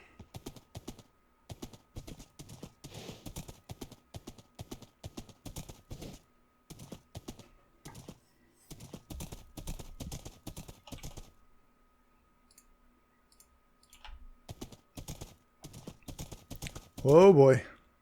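A horse ridden in Minecraft Bedrock Edition clip-clops in a brisk, steady stream of light hoof taps, pausing briefly, then resuming before a short loud snort or whinny at the end.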